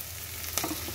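Prawns with softened onion sizzle in a pan, a steady close frying hiss with a brief clink of a utensil partway through, no voices.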